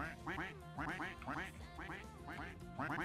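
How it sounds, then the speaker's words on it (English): Ducks quacking in the Roblox game Duck Army, a rapid chorus of repeated quacks in quick bursts of three or four, close and fairly soft, continuing without pause. "Keep quacking."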